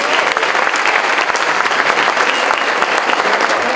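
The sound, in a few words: applause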